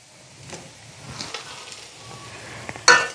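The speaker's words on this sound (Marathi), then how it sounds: "आता आपण तळून घेतलेले शेंगदाणे घालूयात।" Already-fried peanuts tip into a pan of Latur-style sushila breakfast, with a faint sizzle and light stirring before a sharp, loud clatter-and-sizzle burst near the end as the nuts land.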